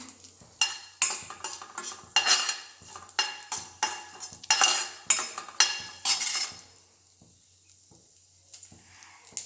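Chopped red chilli frying in oil for hirekai palya, a rhythmic series of spoon scrapes and clinks against the pan over a light sizzle, close, fading to quiet near the end.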